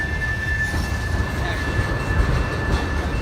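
A tanker train rolls past on a railway track, giving a steady low rumble of freight cars and wheels with a faint high squeal running throughout.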